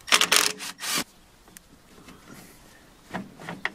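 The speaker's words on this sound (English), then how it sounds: "the rest are just clip fittings that just pops right out" Plastic clip fittings on a Nissan radiator condenser fan being pried and popped loose: a cluster of sharp scraping, rubbing snaps in the first second, then quiet handling with a couple of faint clicks near the end.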